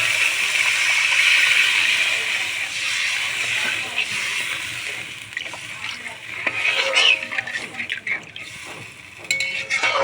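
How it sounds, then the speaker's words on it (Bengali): Water poured into hot, oil-released fish-curry masala in a pan bursts into a loud, sustained sizzling hiss that settles, followed by clinks and stirring of the pot. "এখন আমি অ্যাড করে দেবো জল"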